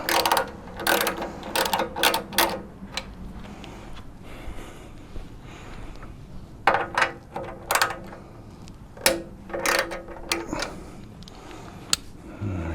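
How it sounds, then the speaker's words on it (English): A ratchet wrench undoes the rear fuel tank bolts on an 18-year-old Honda Fireblade motorcycle, giving close, loud bursts of rapid clicking that start and stop in several repeated rounds with short pauses between them. "now we can undo these 2 back bolts and lift the tank out"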